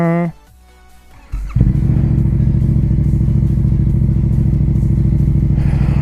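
Yamaha motorcycle, 2020, starting up after a brief quiet moment, then a loud close idle and revving with a steady throbbing engine note that holds to the end.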